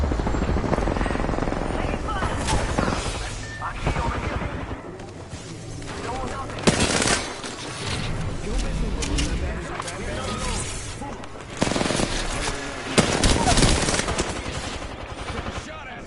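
Video game gunfire bursts loud over a busy battle mix with a steady helicopter-like drone, sharp volleys recurring around the middle and end, with a player talking throughout.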